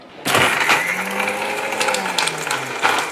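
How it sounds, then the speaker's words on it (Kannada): A mixer grinder whirs loudly and close as pepper rasam spices are ground in its jar, starting abruptly then holding a rough, rattling drone with shifting pitch for about three seconds. "ನೋಡಿ ಇವಾಗ ಮಿಕ್ಸಿಲಿ ರುಬ್ತೀನಿ"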